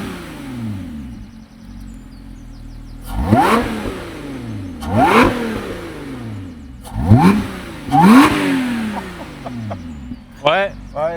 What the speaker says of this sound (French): Allez, mets-nous un petit coup de gaz.